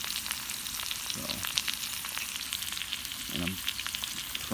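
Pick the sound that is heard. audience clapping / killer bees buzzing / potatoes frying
potatoes frying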